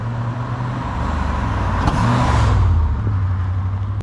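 Holden VN SS car driving, a steady, loud engine and road drone heard from inside the cabin with a slight swell partway through, no talking.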